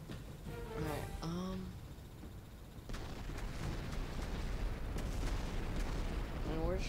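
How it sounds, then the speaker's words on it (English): Naval guns firing at the battleship Repulse in Battlestations Midway, with repeated booming shots and rumbling blasts over a continuous roar of battle, a voice briefly heard talking at the start. "we're just firing everything we can right now at the repulse"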